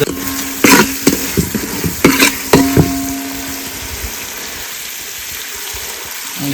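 Turmeric, masala and garlic sizzle and are stirred in a hot pan for a village-style mutton curry, with frying hiss throughout and several sharp clanks of a spoon against the pan early on, fading to a steady low sizzle.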